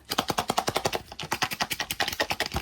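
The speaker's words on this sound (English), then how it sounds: "There's a very loud rattle coming from a heavy item in there" Rapid, loud rattling clatter of a heavy item knocking around inside a small toy capsule shaken quickly and repeatedly, with no talking.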